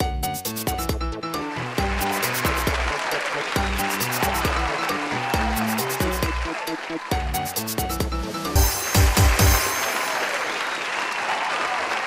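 Studio audience on a Vietnamese TV comedy show applauding in a sustained wash of clapping, heard alongside loud stage music with a steady beat, swelling slightly toward the end.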